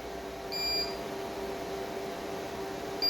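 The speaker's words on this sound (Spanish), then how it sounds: "empieza a sonar la alarma indicando que estamos operando en baterías" A short electronic beep from a Tripp Lite SU16000RT4U UPS running on battery, then another about two and a half seconds later, over a low steady electrical hum.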